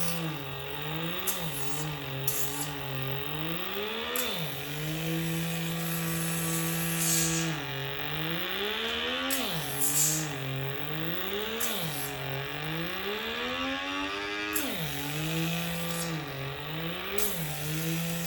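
A W Skin Aqua hydra facial device runs on the upper lip, a steady motorized whir whose pitch repeatedly dips and rises as it is pressed and moved, with faint hissing squeaks on top.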